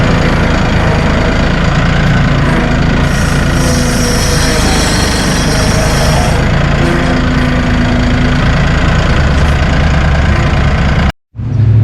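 A Massey Ferguson 1840E Hydrostat compact utility tractor's 39.4 hp engine runs loud and close, its steady mechanical drone rising as the revs climb, then cutting off abruptly near the end.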